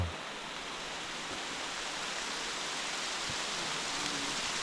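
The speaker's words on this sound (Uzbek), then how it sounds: "Wow, lekin yomg'ir ovozi." Steady rain falls on a mountain trail, a dense even hiss close around the listener that runs unbroken from start to finish, with no voices.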